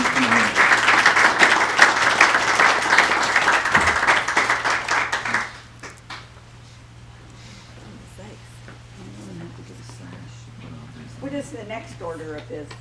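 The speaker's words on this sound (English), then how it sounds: "A round of applause for our new Knight and Dame Commandeur" Loud, dense applause from an audience at a Knights Templar convent and investiture, welcoming a new Knight and Dame Commandeur. It holds steady for about five seconds, then stops abruptly, leaving a quiet hall with faint shuffling and murmurs.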